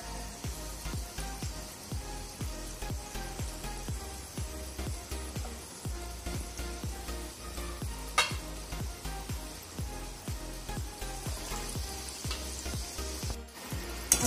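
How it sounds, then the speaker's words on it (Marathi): Batata vadas deep-fry in oil over medium gas, a dense continuous bubbling crackle that stays even throughout, close and fairly quiet, with one brief louder clatter near the end and no talking. "आपले बटाटा वडे छान असे उलट पालट करून मी मीडियम गॅसवर तळून घेतलेले आहेत"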